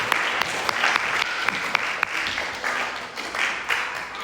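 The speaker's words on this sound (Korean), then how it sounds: "우리 박수로 함께 감사의 박수를 드리겠습니다" A church congregation applauds in thanks during a Sunday service, steady dense clapping with a few sharper individual claps standing out, moderately loud and sustained throughout.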